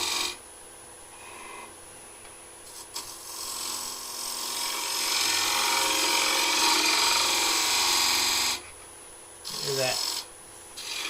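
A bowl gouge cuts into a spinning wooden bowl on a woodturning lathe while a shoulder is flattened, giving a steady rasping scrape that swells and fades over several seconds, with the lathe's hum underneath.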